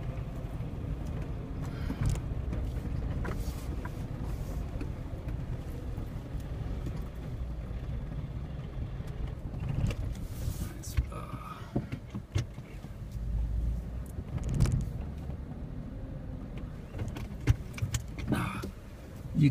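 A 2009 Jeep JK crawls up a small hill, its engine rumbling low under scattered rattles, clunks and creaks from the vehicle over about twenty seconds.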